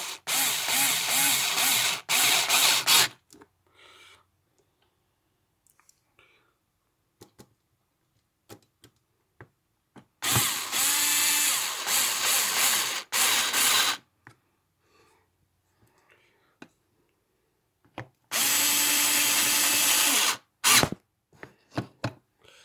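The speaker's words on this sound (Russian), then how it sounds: "Закручиваем наши болтики." A power tool tightens bolts on the engine control unit of a Volvo S80 in three loud whirring bursts, separated by quiet pauses with small clicks.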